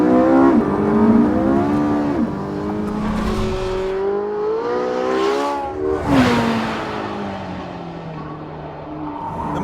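A 2015 Porsche 918 Spyder in full race mode, traction and stability control off, revs hard through rising and falling gear sweeps, its loud, close engine note climbing and dropping with faint tire noise and no talk.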